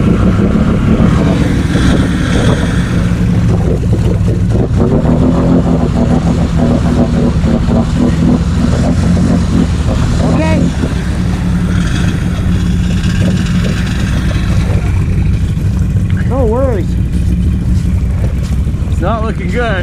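A rough motorcycle engine with a failing, noisy muffler drones steadily and loudly throughout, buffeted by heavy wind noise with no break.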